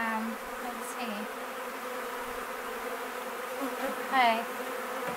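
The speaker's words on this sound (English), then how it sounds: "let's see how many bees I'm gonna have to scoop up into there" A dense, steady buzz of many bees inside a barrel during a beehive rescue, close and continuous with slight swells, with one brief spoken word over it.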